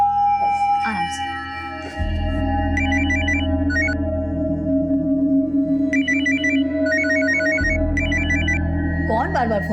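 A phone rings in bursts of repeated trilling tones in a home at mealtime, with long gaps between rounds, over a low steady hum and background voices.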